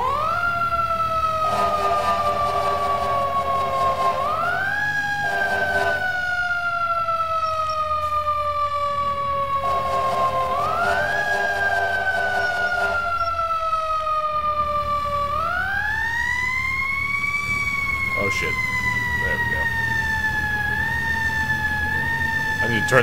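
A fire engine siren in the EmergeNYC video game, responding to a building fire. It wails loud and close in long rising and falling sweeps over a steady engine rumble.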